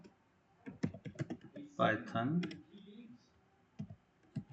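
Typing on a computer keyboard while working in a Jupyter notebook: bursts of quick, close key clicks with irregular pauses, while someone talks quietly in between.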